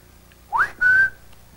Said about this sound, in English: And he whistles in the hat.